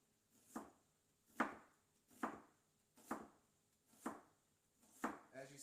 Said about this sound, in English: I'm just going to go with the grains, keeping my knife at a little bit of an angle just to go with it